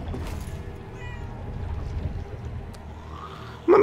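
A cat meows in Murdered: Soul Suspect inside a psychiatric hospital, a single short meow at the end of a stretch of low, rumbling ambient game background.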